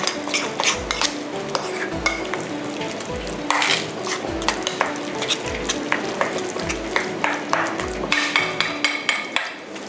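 Repeated dull knocks and scraping of a utensil in a bowl, a steady rhythmic mixing of a thick paste of ground shrimp and seasonings, with faint clinks and no talking.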